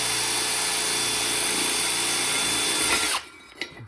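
Power drill with a blunt bit boring into car body metal during inner sill and A-pillar reinforcement work, a loud, continuous whine that cuts off abruptly near the end, followed by a brief clatter.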